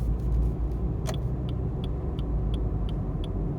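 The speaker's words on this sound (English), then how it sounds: "let's see what happens when I press the accelerator gently" Suzuki Baleno car accelerating gently, a steady low engine and road rumble heard from inside the cabin, smooth and continuous with faint ticking clicks over the drone.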